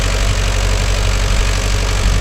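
A Mahindra Yuvo Tech Plus 585 4WD shuttle gear tractor engine idling, a steady, dense, low rumbling drone close to the microphone with no voices over it.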